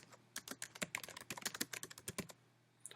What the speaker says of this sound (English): just type in something like your name